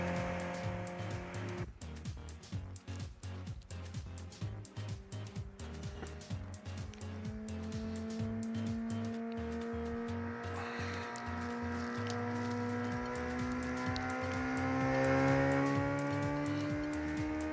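A 2006 Honda CB 600 F Hornet engine, fully tuned to 120 horsepower, roars close by in the game Ride 2, revving up through the gears with rising pitch and brief drops at each shift, loud and continuous.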